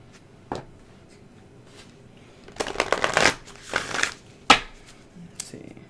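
Oracle cards shuffled by hand in a few crisp riffling bursts with soft handling rustles between, close and moderately loud, no talk.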